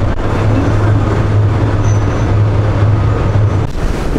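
An electric airport shuttle train carries passengers between terminals, its interior a steady low hum and rumble with a sustained drone throughout and a brief faint whine partway.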